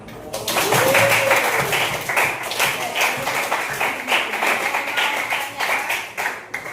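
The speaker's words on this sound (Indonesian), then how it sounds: "Berikan tepuk tangan." Students in a classroom clap in a lively burst that rises quickly and holds steady, then thins into scattered claps, with a voice briefly heard near the start.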